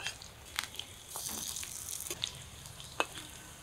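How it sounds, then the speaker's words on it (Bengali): Flattened fish roe and gram flour fritters frying in mustard oil in a kadai, a soft continuous sizzle with occasional sharper crackles and pops, close and fairly quiet, no voices. "এখন একটু চ্যাপটা চ্যাপটা করে বানিয়ে কড়াইতে দিয়ে দিই"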